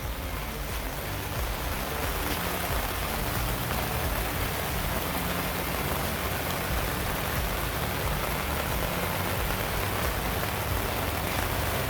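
Steady rain drums on a NaturNest awning, a dense, even hiss with close patter of drops and no pauses, heard alone without any talk.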